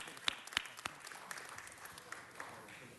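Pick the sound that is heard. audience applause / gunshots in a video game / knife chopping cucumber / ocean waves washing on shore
audience applause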